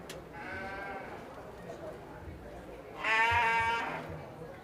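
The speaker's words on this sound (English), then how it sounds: "I think these four sheep that are out here" Sheep bleat at a junior fair sheep show. Two clear, wavering bleats sound at moderate distance, the second louder, over a low murmur of background crowd noise.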